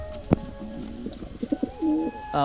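A crested pigeon with feathered feet coos overhead in soft, repeated low notes, fairly close, with a faint background hum and no voices.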